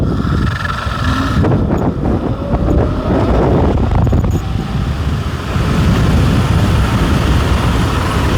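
Strong wind buffeting the microphone while riding a Nanrobot LS7+ electric scooter at high speed, a loud continuous roaring rush that swells and eases in gusts, with no voices.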